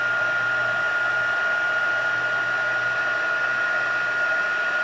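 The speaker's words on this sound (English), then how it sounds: "heat emboss it here." Heat tool running steadily for heat embossing stamped glitter, a constant whirring blower hum with a strong tonal whine, close and unbroken throughout.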